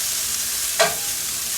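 Diced potatoes and bacon fry with a constant hiss in a skillet as a spoon makes one brief scraping stir midway.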